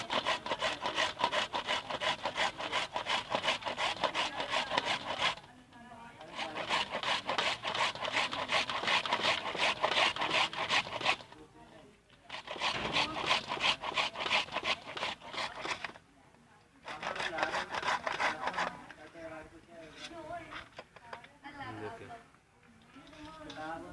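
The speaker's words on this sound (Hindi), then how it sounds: "ये हमारे पास कंडा है रगड़ने वाला। जो बाकी गाजरें थे हमने 3-4 रखी हुई थी वो हम रगड़ लेंगे अब।" Carrots rubbed on a hand grater in a home kitchen make a fast, rhythmic rasping scrape. It comes close and loud in long bursts with brief pauses between them.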